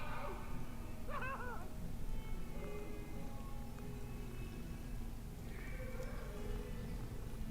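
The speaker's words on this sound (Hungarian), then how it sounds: "ez a nyávogásunk nagyon vicces" Cat meowing in the Hogwarts Legacy video game, two short rising meows spaced apart over a steady ambient hum, with no talking.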